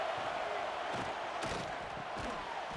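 A large college football stadium crowd at Auburn roars steadily on a third down against Missouri, a dense sustained wash of cheering and shouting with a few louder swells, with no clear talk on top.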